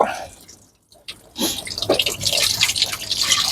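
Water drips and trickles steadily from an opened pressurised garden pond filter. After a brief quiet gap it becomes a continuous close splatter.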